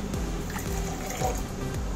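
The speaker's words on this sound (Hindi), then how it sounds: "और थोड़ा सा पानी डाल के" Water trickles and pours steadily into a glass holding sugar, a continuous liquid splashing close by with faint background noise.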